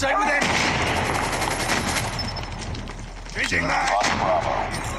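Rapid gunfire and explosions from a mobile shooter game played on an ASUS ZenFone 9, dense continuous shooting with booms, loud and close.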